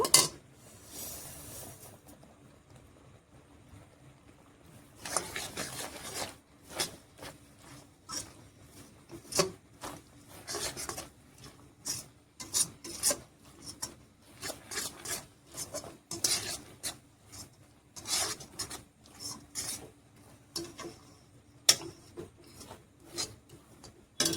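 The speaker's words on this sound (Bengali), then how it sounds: "এবারে আমি তিলগুলো অ্যাড করব।" Sesame seeds for homemade sesame ladoo are stirred in a pan, making a steady dry rasping and scraping. Close, repeated bursts of rubbing come in uneven strokes with no voices.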